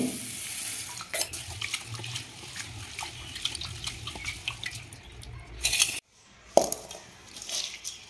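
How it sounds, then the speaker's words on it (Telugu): Basmati rice, a kilogram of it, is rinsed in water in a pot; steady sloshing and trickling water continue throughout, with splashes and a brief pause near the end. "ఈ బియ్యాన్ని 2 సార్లు శుభ్రంగా కడిగి తీసుకోవాలి."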